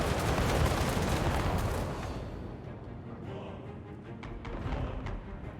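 Hell cannons firing in the Total War Warhammer 2 battle game, a dense roar of overlapping booming blasts and crackling gunfire that is loud at first and then eases into a steadier rumble of distant fire.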